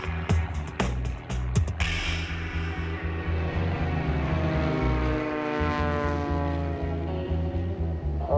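A small propeller plane flies low over Alaskan terrain beneath heavy cloud cover. Its steady, close engine drone holds throughout, with a few sharp clicks at the start and no talking.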